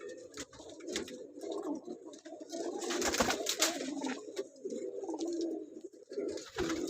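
Rampuri pigeons and other flying and pair-kept pigeons coo steadily in a loft, with overlapping close and mid-distance calls and rustling behind them.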